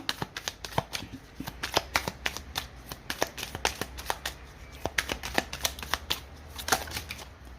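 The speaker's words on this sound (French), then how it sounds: "on va prendre une carte supplémentaire avec l'oracle du soleil" Oracle cards riffle and snap in a quick, steady rhythm throughout, shuffled and drawn close by with no voice over them.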